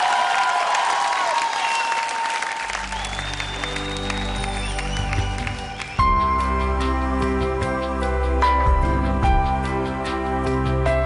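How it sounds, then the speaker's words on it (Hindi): A studio audience at a televised celebrity dance competition claps and cheers in a dense, steady wash that continues as loud stage music swells in and carries on over it. "जोरदार तालियां हो जाए."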